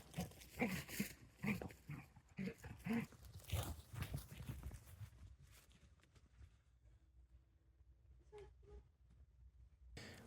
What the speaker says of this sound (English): This is our neighbour's dog Teddy, who invites himself over and has a play with Mila from time to time.